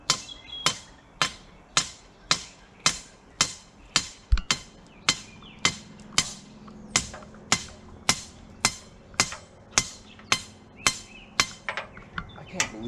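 Regular hammer blows, about one or two per second, sharp and close, striking steadily for the whole stretch with a brief pause midway, while putting up a CB tower.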